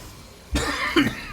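A man coughs sharply and close, a burst of rough coughs over about a second, during a Yasuo League of Legends game session.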